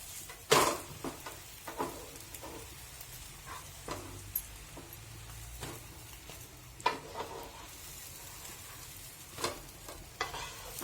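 An egg omelette crisping in a pan gives a faint, low sizzle punctuated by occasional sharp scrapes and taps of a spatula, quiet and close with no talking.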